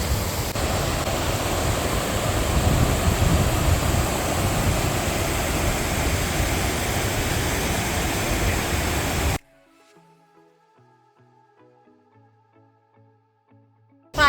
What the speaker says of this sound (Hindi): हम आए वाटरफॉल